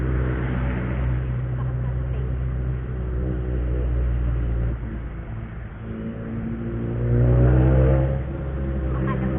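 Honda Wave RSX motorcycle engine revving while riding on the road in Bacoor, Cavite, a continuous close rumbling drone that swells louder near the end.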